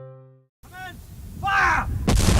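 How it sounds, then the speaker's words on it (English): Artillery batteries open fire in a staged battle scene: after a short tonal intro and a pause, loud booming blasts and rumbling build up, ending in a heavy, broad explosion-like roar. "12 batteries of artillery opened fire on the oncoming Imperials at the same time."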